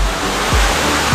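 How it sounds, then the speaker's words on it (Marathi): Shivdav waterfall at Kalsuli in the Konkan region, roaring as a steady, loud wash of falling water with low rumbling thumps, close by and unbroken, with no voices. "कळसुलीमध्ये शिवडावचा धबधबा आहे"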